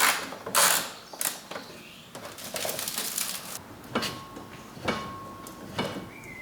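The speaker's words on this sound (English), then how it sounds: "So I'm going to quickly undo these two bolts" Bolts being undone on the rear end of a BMW, close metallic clicks, ratcheting and creaks in separate short bursts with brief pauses between them, with no talking.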